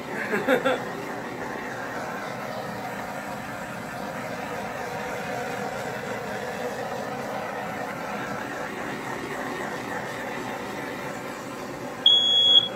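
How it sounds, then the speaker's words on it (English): A high electronic alarm beeps in short bursts at the start and end, with a low engine-like hum in between. "Oh God, the alarm."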